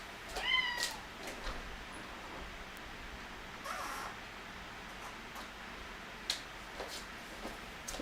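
An active house cat meows several times, starting with a clear rising call near the start and followed by softer, scattered mews over a quiet indoor background, with no talking.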